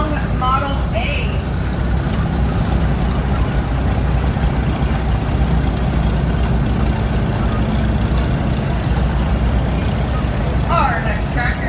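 A 1949 Long Model A tractor idles at a threshing show, a steady low engine drone under crowd background noise, with brief chirpy sounds at the start and end.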